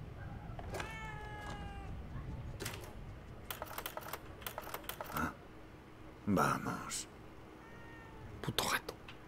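A cat meows in a horror video game, two or three drawn-out cries with a tapping keyboard underneath and a short spoken word between them.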